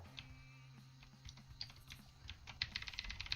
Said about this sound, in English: Here I'm just hammering that keyboard.